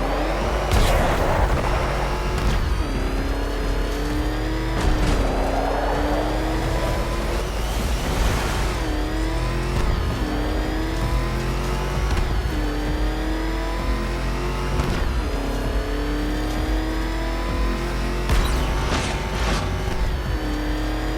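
A car engine in Batman: Arkham Knight gameplay revs continuously and loudly, pitch rising and dropping in repeated surges, with booming impacts scattered through it.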